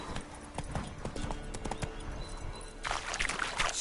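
Roach, the horse from The Witcher 3, gallops with rapid, steady clip-clop hoofbeats that stay close and loud throughout, with a brighter, busier burst of game sound near the end.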